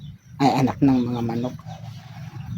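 A few chickens and chicks cluck and squawk close by in short bursts, then the sound fades to quieter background noise.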